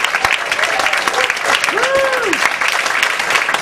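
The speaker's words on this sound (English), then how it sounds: "Keep those hands clapping." A comedy club crowd keeps clapping in a steady, dense wash of applause, with a voice briefly heard over it midway.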